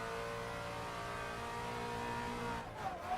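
A drift car without a working handbrake holds a loud, steady engine drone at high revs, with a brief dip and flutter near the end as the clutch is kicked.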